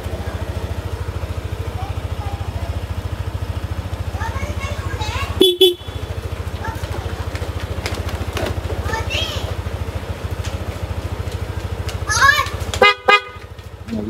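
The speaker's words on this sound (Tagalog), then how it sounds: "Kapag magbusina lang, para alam natin, na aware tayo na may katabi tayong motor." A PIAA dual horn fitted to a Yamaha NMAX155 scooter honks in two short bursts, once near the middle and again near the end, over a steady low engine idle, with traffic noise around it.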